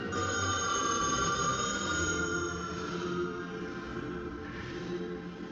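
A telephone ringtone rings steadily and fairly quietly, a continuous electronic trill repeating without pause and with no talking over it.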